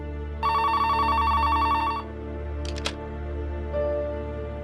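A telephone rings with a bright, steady electronic trill for about a second and a half, followed by a short clatter and a softer tone, all over a low background hum.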